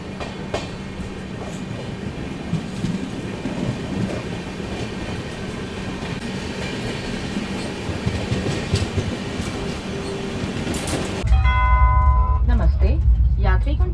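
The Swarna Jayanti Rajdhani Express rumbles steadily from inside a 3rd AC coach, a continuous close roar of rolling wheels and carriage noise, joined near the end by a loud chime and an onboard announcement voice.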